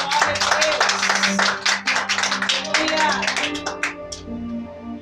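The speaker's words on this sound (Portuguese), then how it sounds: "Dê uma salva de palmas para Jesus bem forte." Congregation at a church service claps in a quick, uneven burst for several seconds over sustained music and voices, the clapping thinning out toward the end.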